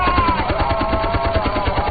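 Rapid machine gun fire in a film aerial combat scene, a dense rhythmic burst of shots rattling on continuously at close range and loud throughout.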